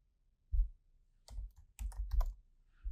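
Short bursts of typing on a computer keyboard, with scattered clicks and clacks separated by brief pauses, close and clear with no voices.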